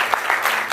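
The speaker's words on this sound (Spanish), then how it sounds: "Dale un aplauso entonces al Señor." Church congregation at a Spanish-language worship service breaking into brief, close applause, a short burst of clapping lasting under a second.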